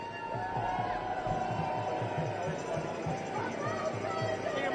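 A protest march crowd against the RNC in Milwaukee streams past on the street, a continuous hubbub of voices and rhythmic drumming or stomping, steady and fairly close.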